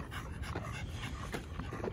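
A bully breed guard dog pants steadily and close by, with a continuous rapid breathy rhythm filling the whole moment and no talking over it.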